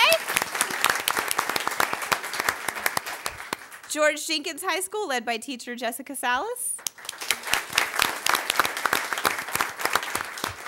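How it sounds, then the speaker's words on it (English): Applause from the audience at a school board meeting honoring high school teachers, sharp, dense clapping that stops while a man announces a name, then starts up again. "let's applaud her anyway"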